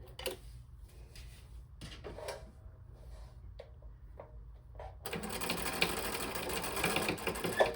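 A sewing machine runs a straight stitch through a stacked fabric piece, first a few clunks and handling knocks, then a steady dense whir of the needle running continuously and close for the last few seconds.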